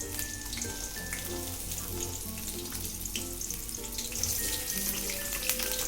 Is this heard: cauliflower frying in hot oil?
yes